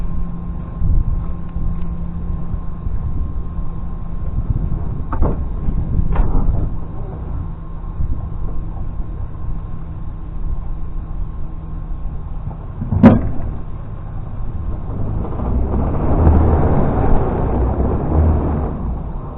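An old diesel tractor engine cranks with a low rumbling churn, using its decompression lever. A sharp bang comes midway, then it catches into a louder, rough chugging roar near the end.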